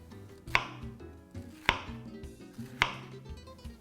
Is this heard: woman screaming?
no